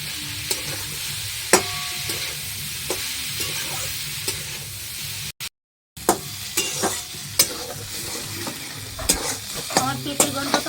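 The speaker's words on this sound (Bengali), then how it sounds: "হলুদ দিয়ে দিলাম হাফ চামচ আর হাফ চামচ নুন দিয়ে দিলাম এবার একটু নাড়িয়ে দেবো" Bata fish pieces seasoned with turmeric and salt are stirred in a hot pan with oil, giving a steady close sizzle broken by scraping spatula strokes and a brief silent gap midway.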